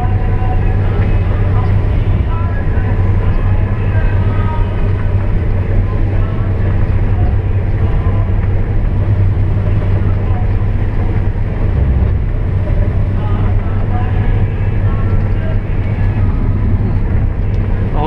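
A Claas Lexion 670 combine harvester unloads rapeseed during harvest in Moravia, a loud continuous low engine drone and mechanical rumble that holds steady throughout, heard close from the machine itself.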